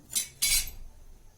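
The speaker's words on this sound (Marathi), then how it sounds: "गॅसवर कढई ठेवू कढईमध्ये आपण दोन पाण्यात तेल टाकू" A metal kadhai is set down on a gas stove with two quick clanks, the second louder and ringing briefly before fading.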